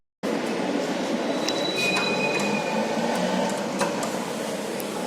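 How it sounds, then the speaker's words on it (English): A Citadis tram in Rabat runs along its rails, a steady loud rumble with faint metallic squeals and occasional clicks of the wheels, continuous throughout with no talk. "These trams are Citadis trams."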